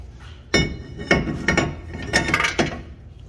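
A hammer strikes a bent metal dust shield behind the rotor during a wheel bearing job on a 2014 Toyota Venza, giving about five sharp, close metallic clanks at an uneven pace.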